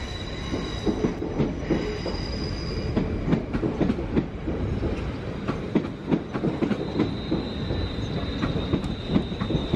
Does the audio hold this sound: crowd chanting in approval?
no